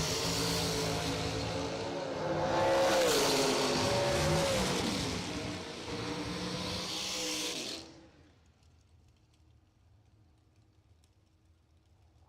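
Drag racing cars roar loudly off the starting line, the engines swelling and howling together for several seconds before cutting away to a quiet background hum.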